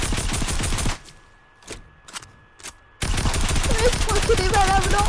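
Rapid bursts of Fortnite gunfire, first as steady automatic fire, then several isolated shots in a quieter gap before a heavy, continuous barrage resumes, with voices talking over the action.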